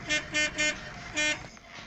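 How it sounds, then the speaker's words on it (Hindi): A car horn honks four short, loud beeps nearby, the first three in quick succession and the fourth after a brief gap, over faint background hum. "चलिए पहले आपको इसका हॉर्न मार के बता दो किस तरह का बज रहा है।"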